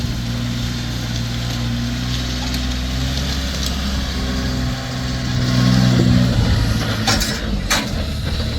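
A Kubota L3408DT tractor with a three-cylinder turbocharged engine runs close by, a loud steady diesel drone that swells slightly as it revs, no talk.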